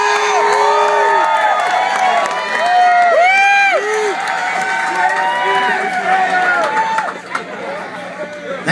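A club crowd cheering and whooping for two brothers who play guitar, loud and close, with overlapping shouts and yells sustained and tapering off toward the end.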